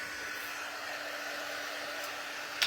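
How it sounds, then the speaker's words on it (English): A heat tool blows hot air to dry a craft project, a steady close rushing whoosh with a faint hum, ending in a brief knock. "we're going to dry this. I also don't think I put that you need a heat tool"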